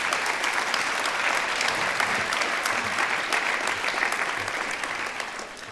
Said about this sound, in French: pour pouvoir être applaudi comme vous le méritez